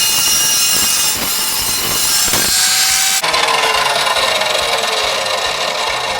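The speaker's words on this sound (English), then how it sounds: "I want you guys to see how well the Evolution cuts." An Evolution saw cutting through metal bumper brackets on a truck build, a loud close grinding cut with a few sharp bursts early, then a sustained higher-pitched saw roar as the blade runs on alone.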